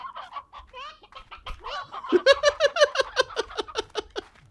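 Chickens in the Slime Rancher video game cluck in a quick, busy flock, the calls stacking into a rapid rhythmic run of loud, close clucks, with softer chirps and squawks at the start.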